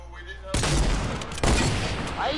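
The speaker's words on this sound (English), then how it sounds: "Why are you shooting me?" Gunfire in a video game, two loud bursts of shots close up, the first starting about half a second in and a second volley a second later, in a short clip with no clear speech.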